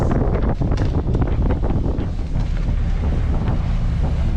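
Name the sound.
boat with two Mitsubishi 8DC9 engines running at speed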